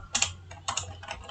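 Keys on a computer keyboard clack in quick short bursts as a number is entered, three small clusters of crisp taps close to the microphone with brief pauses between them, no voices.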